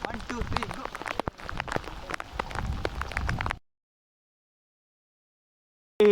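Rain patters steadily on surfaces in a forested national park near the Kanheri Buddhist caves, a dense close hiss with scattered drops, then cutting off abruptly into silence.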